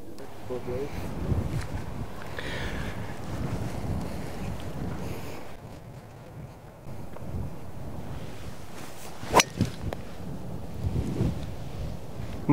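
Wind buffets the microphone on a hilltop golf course, a steady low rumble with gusts, while someone talks over it throughout.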